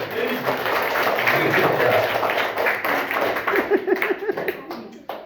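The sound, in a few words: schoolchildren clapping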